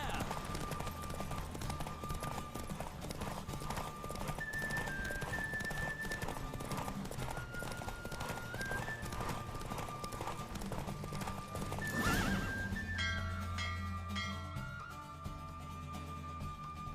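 Horse galloping in The Witcher 3, steady clip-clop hoofbeats running throughout with a brief whinny, under game music and sound effects.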